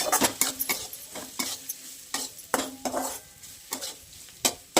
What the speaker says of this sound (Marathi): मिडियम गॅसवर परतून घेणार आहे आपण कांदा